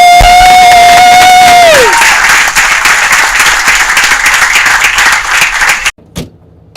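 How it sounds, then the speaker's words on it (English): Audience applause and cheering swell loud and dense after a sustained sung note fades, with many hands clapping and voices whooping for several seconds before cutting off abruptly. "A round of applause."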